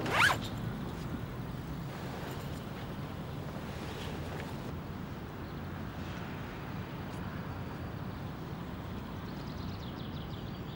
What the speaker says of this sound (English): Zip off the front awning, sun awning, completely and fold carefully.